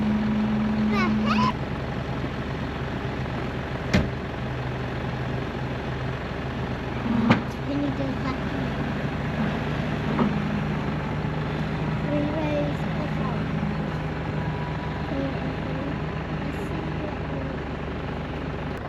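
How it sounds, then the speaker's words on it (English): A large tractor engine drones steadily and loudly throughout, a deep rumbling machine running close by on a farm field, with a few brief knocks and clatters. "That is big tractor."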